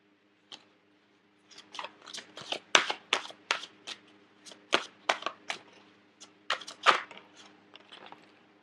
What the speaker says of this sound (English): So I'm going to get 2 more advice cards.